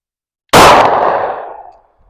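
A single loud, close gunshot from a Smith & Wesson M&P Shield .40 pistol, a sharp crack after silence with a decaying ring-out tail.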